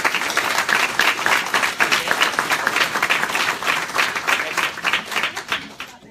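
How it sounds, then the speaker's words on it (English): A room full of people at a talk on running for office gives a warm round of applause. The clapping is loud, dense and sustained, then thins and fades toward the end. "Let's give you all a round of applause"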